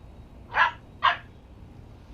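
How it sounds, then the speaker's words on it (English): A dog barks twice indoors at home, two short, sharp, fairly close barks about half a second apart, with a quiet room between them and no talking. "don't bark at me if you're not going to come here."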